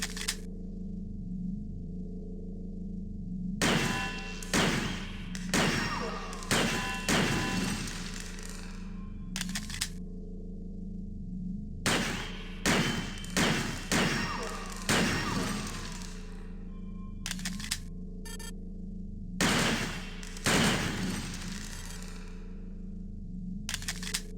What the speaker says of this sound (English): take a shot at the dummy robot by pressing the Fire button when in shoot mode